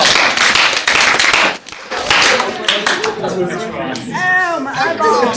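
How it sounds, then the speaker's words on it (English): Classroom of students giving a round of applause, a burst of close clapping and cheering that breaks off and gives way to voices chattering and talking. "All right, everybody give her a round of applause."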